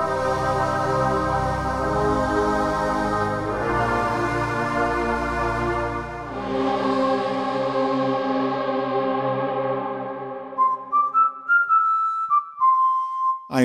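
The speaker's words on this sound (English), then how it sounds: "I recorded male and female vocals to create choir and whistling" Sampled male and female whistling vocal patches from a Padshop 2 sound library, playing sustained harmonic whistled tones with effects and echo, shifting pitch partway, then ending in short separate whistled notes.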